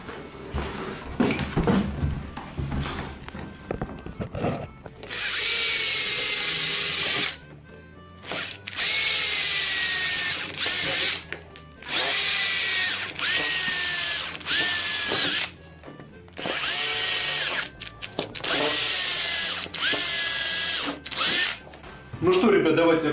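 Power screwdriver driving self-tapping screws through a butterfly hinge into an interior door, heard in several whirring bursts of a few seconds each with short pauses between, close up, while someone talks at the start.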